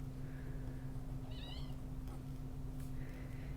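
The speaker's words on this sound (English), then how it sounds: "And if you hear any little squeaks, that is Hades." A small, high kitten squeak comes once or twice, faint and brief, over a steady low electrical hum.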